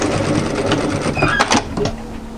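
Sewing machine stitching a seam on an off-shoulder raglan swing sweater and back tacking, a loud close continuous motor whir with rapid needle chatter that shifts briefly near the end.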